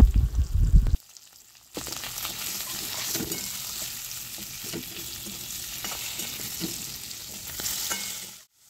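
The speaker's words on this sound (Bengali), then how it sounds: "সেদ্ধ করে রাখা আলুগুলো টুকরো টুকরো করে কেটে তেলের মধ্যে দিয়ে ভেজে নেওয়া হবে।" Boiled potato pieces with turmeric fry in hot oil, a brief loud burst giving way after a short pause to a steady, close sizzle with occasional stirring scrapes that fades out at the end.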